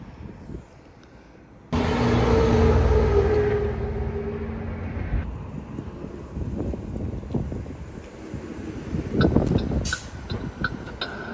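Busy highway traffic in Los Angeles gives a loud, continuous roar of passing vehicles. Heavy wind buffets the microphone throughout, and the rumble rises and falls without any speech.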